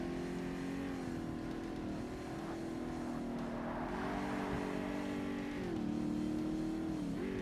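A race car engine in the video game Forza Motorsport drones steadily and loudly throughout, its pitch holding then dipping and rising briefly as gears shift under acceleration, with no talking.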